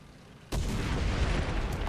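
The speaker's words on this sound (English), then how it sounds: "Something just tried to shoot at me." A sudden heavy boom strikes near the player's tank in War Thunder, arriving after a quiet moment and followed by a sustained loud rumbling wash of noise.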